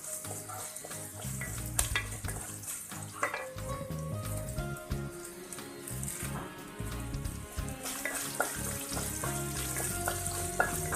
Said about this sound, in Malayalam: അപ്പം അതുവരെ ഇതൊന്ന് ഇളക്കിക്കൊണ്ടിരിക്കണം.